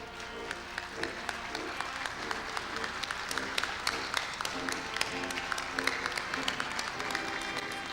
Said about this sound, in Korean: 자리에서 일어나셔서 큰 박수와 함께 환영해 주시면